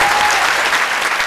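Dense, steady clapping from a studio audience at a televised singing contest after a contestant's scores are announced, loud and continuous with no gaps.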